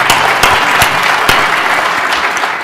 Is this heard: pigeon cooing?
no